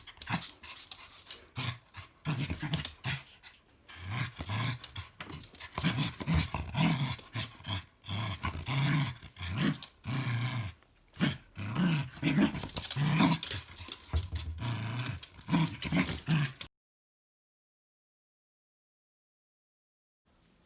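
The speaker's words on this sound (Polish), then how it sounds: "zawsze jak mm, się z nią tak bawię, to ona warczy" A dog growls and pants while playing tug with a rope toy, rough rhythmic growling bursts close to the recorder, continuing for most of the stretch before falling silent.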